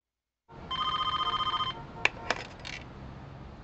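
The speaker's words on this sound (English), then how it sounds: "A phone's gonna be ringing the other side of the Transamerica building." An old-style telephone rings in a San Francisco street scene near the Transamerica building in the PlayStation game Driver, a short burst of rapid bell trills followed by a couple of sharp clicks over steady background ambience.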